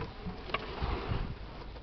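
A few remaining bees in an opened, failing hive give a faint, low buzzing hum with a brief tick or tap partway through.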